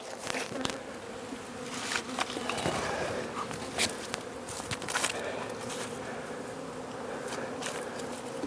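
A breeder hive of bees in early February hums with a soft continuous buzz, faint and close, with occasional light knocks and rustles from handling the hive.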